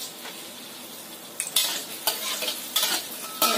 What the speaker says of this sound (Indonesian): Aku akan goreng dulu bawang merah, bawang putihnya.